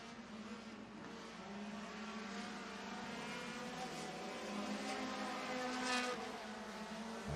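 Sport compact race cars roar down the backstretch of a racetrack in a five-car pack, a steady, distant engine drone that swells slightly, with no talk heard.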